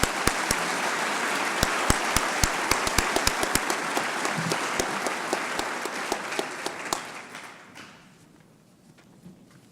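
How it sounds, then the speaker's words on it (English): An audience at a scholarship reception applauding award recipients, dense clapping with distinct close hand claps punctuating it, gradually thinning and fading out to a few scattered claps near the end. "Let's give this group a big round of applause"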